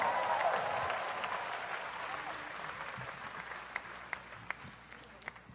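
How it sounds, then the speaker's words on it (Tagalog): A church congregation applauds loudly at first, the clapping gradually fading and thinning out, with a few scattered claps near the end. "ibigay natin ang matunog na palakpak sa Panginoon"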